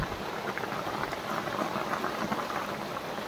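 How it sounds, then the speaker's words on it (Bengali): Heavy rain falls outside a workshop, a dense, steady hiss of downpour that holds at an even level throughout with no voices. "বৃষ্টির আওয়াজ শুনতে পাচ্ছ গাইস?"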